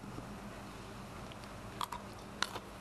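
Someone bites and chews warm pan-fried cucumbers cooked in a little oil, with two short crunchy bites near the end standing out over quiet chewing.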